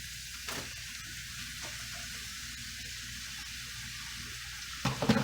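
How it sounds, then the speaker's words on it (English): Ground turkey, three pounds of it, frying in olive oil in a pan, a steady broad sizzle holding evenly throughout, with a few louder clatters near the end. "And I'm cooking 3 pounds of ground turkey"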